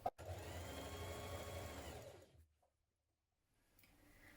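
A sewing machine runs a line of stitching around a dress neckline in one steady close burst of about two seconds, then stops, leaving near silence.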